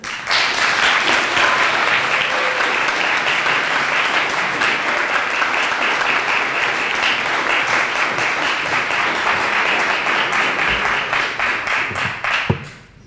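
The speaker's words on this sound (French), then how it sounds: "Sous vos applaudissements, bien entendu." An audience at a French speaking competition final gives sustained, loud, dense applause that holds steady for a long stretch before tapering off with a few last claps.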